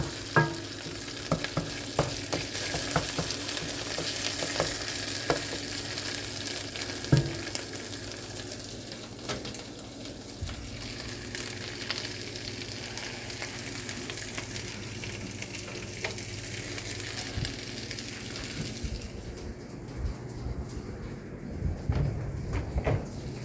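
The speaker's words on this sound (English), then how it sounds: "let the alcohol in the vodka boil out, so you're just left with the flavor of the vodka" Vodka sauce bubbles and sizzles in a pan in a continuous, even hiss, with scattered clicks and knocks around it and a cupboard-like thump near the end.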